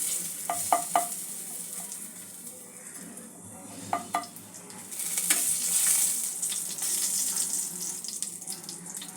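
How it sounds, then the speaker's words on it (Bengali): Spices with asafoetida frying in a pan for besan kachori filling, a soft sizzle with a few sharp clinks and stirring scrapes near the start, then a brighter hiss swelling midway before easing off. "হাফ চামচ মতন হিং দিয়ে দেব। সব কিছু একটু ভেজে নেব।"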